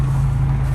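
Steady low engine drone from a Hyundai HX145 excavator held at full throttle while stuck in limp mode, loud and close, a constant hum with no change in pitch.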